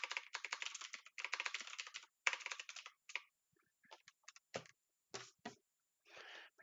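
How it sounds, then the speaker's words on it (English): Quick bursts of keystrokes on a computer keyboard, rapid clattering runs that break into scattered single presses and pauses, close and fairly quiet with no talk. "I keep pushing the wrong key."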